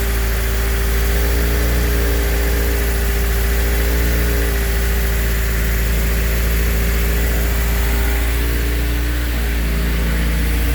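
A K24 engine swapped into a Honda CRX idles at low RPM, a steady close mechanical hum and low drone with constant vibration, loud and unbroken for the whole stretch with no talk.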